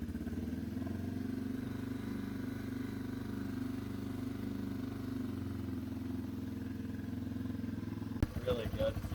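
A Yamaha TTR 230 dirt bike engine runs at a steady, close idle with a low mechanical thrum, then a sudden clatter near the end, with a voice speaking briefly over it.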